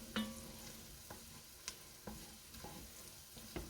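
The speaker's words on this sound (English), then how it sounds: "And again, keep stirring." Potato soup with garlic is stirred in a pot, a spoon scraping and knocking against the sides in several soft, spaced strokes over a faint simmer.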